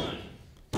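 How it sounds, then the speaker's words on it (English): A pro wrestler lands a moonsault on the ring mat during a tag-team match, one sharp, heavy thud at the very end that follows a steady wash of arena noise. "And a moonsault from Davey Bang."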